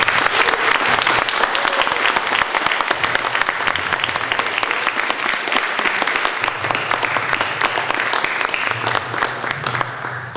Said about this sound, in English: Ladies and gentlemen, please give the candidates a round of applause.